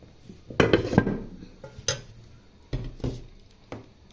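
A spoon clinks and scrapes against dishes while curry with brinjal, dried fish and fresh fish is served, giving several irregular close metallic taps and chinks with quiet gaps between them.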